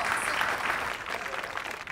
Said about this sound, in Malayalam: അതിനൊരു കൈയടി ആദ്യം കൊടുക്കണം.